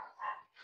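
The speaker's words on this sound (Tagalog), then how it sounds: "Tinahulan po siya na aso." A dog gives a quick, faint pair of short barks or yips, brief and somewhat distant, with no talking.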